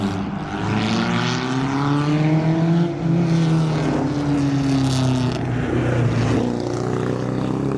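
A loud carbureted Škoda 200 RS rally car engine revs and drones close by, its pitch rising and falling steadily with a rough, throaty tone.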